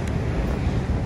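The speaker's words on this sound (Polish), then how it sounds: "Przed nami przepiękny ocean." Wind and ocean surf at an American beach: a steady, dense roar of wind buffeting the microphone over rolling waves, with no voices.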